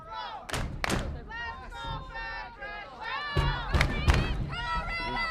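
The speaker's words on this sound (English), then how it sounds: "It's the rowdy crowd trying to get into it." At a varsity boys high school soccer match, a rowdy crowd yells and shouts in overlapping bursts, with sharp thumps and whoops rising and falling in loud, busy waves.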